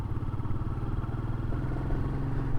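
A motorcycle labours up a steep mountain road in Kerala in first gear, its engine a close, steady low-pitched drone with a pulsing throb and light mechanical clatter, holding a constant strained pitch.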